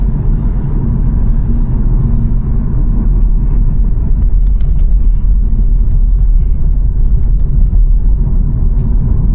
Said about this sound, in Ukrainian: І от Виїхали на плюс-мінус нормальну дорогу, зараз швидкість от 120